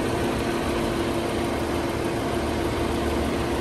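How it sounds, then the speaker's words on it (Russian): A 2012 Lexus RX 270 engine idles steadily, a constant low hum with a faint tonal whine, while a cooling fan runs for the air conditioning; no voices, steady and close throughout. "можно послушать, как работает мотор"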